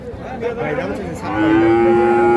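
Small calves moo at a busy cattle market in Hazratpur, Dhaka, one long loud moo swelling up after softer bleating calls, with crowd chatter in the background.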